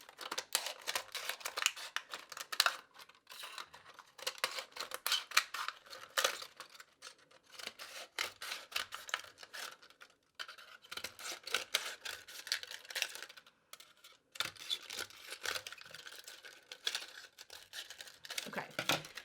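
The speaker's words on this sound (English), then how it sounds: "I'm going to cut straight up. I'm going to cut all the way to the nozzle." Scissors cutting a plastic water bottle into strips up toward the nozzle, a dense, close run of crisp snipping and crinkling plastic with brief pauses between cuts.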